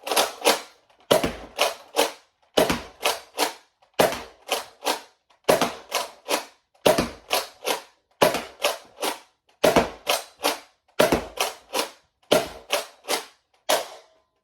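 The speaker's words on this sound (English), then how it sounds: "I'm going to be shooting them at the zombie target because I really want to see these hyper rounds again" A Nerf Rush 40 pistol fires hyper rounds at a zombie target in quick bursts of three to five sharp snapping shots, each group separated by a brief pause, loud and close with no talking.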